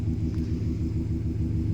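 A Subaru car engine idles nearby after a repair to broken wiring, giving a low, steady rumble with an even throb and no voices.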